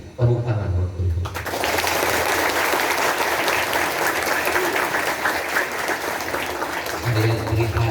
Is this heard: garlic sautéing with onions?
no